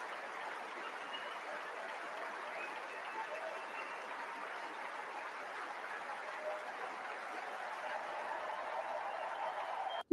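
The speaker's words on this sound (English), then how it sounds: "Just listen to that applause" Steady crowd applause and cheering for the Princess of Wales during a state visit to France, a dense, even wash of clapping from a large gathering, sustained throughout at moderate distance.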